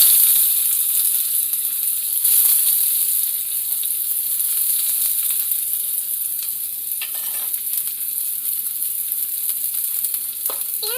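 Chopped onion added to hot oil with cumin seeds sizzles loudly and steadily in a pan, with occasional stirring scrapes and clicks over the continuous frying hiss.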